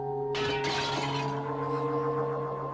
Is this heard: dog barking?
no